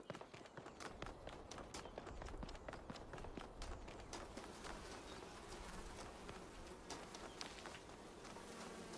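Insect buzzing in The Talos Principle 2 blends with in-game footsteps and rustling ambience, a steady low drone lasting throughout at moderate level, with no talking.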